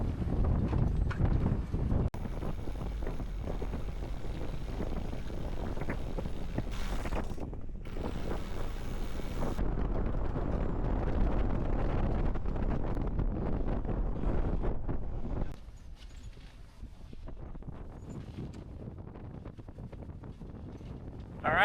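Strong wind buffets the microphone while a boat runs out at sea off Hawaii on the way to Penguin Bank, with a continuous roar of gusts and water rush that eases slightly toward the end.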